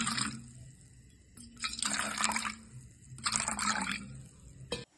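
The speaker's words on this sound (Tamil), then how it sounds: "அடியில் இருக்கிற தண்ணியை நாங்கள் வடிச்செடுக்கிறோம்" Water is poured off soaked rice, coming in short liquid bursts of splashing and dripping with brief pauses between, close by and moderately loud, ending with a final splash.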